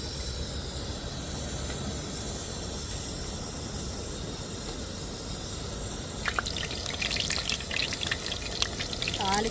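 Fenugreek seeds frying in hot oil for dried-fish curry give a steady close crackling sizzle, turning busier with sharper little pops toward the end.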